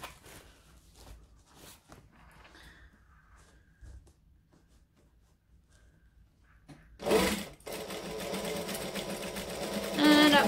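Domestic sewing machine stitching the seam of a fabric bag, quiet and sparse at first, then a loud, close, continuous whirring run of stitching in the last few seconds.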